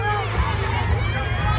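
A rowdy crowd of children and adults at a fall family farm event, DeBuck's Family Farm, shouts and cheers in a loud continuous hubbub with voices overlapping.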